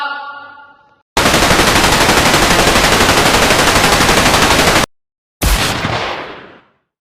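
A film scene of an execution order: one long, loud, continuous burst of automatic gunfire lasts about four seconds, then after a brief silence a second burst trails off into an echoing decay.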